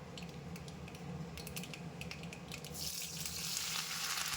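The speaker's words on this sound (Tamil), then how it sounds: "ஆனியன் கருவேப்பிலை பூண்டு எல்லாத்தையும் இதை நல்லா ஃப்ரை பண்ணி எடுத்துக்கலாம்" Sliced onion frying in hot oil with popped mustard seeds, curry leaves and garlic: a continuous close sizzle with crackling pops, swelling into a louder hiss partway through as the pan heats up.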